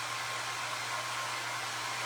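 A hair dryer blows steadily to dry a primitive-style craft tin, a constant loud, even whoosh with no voices over it.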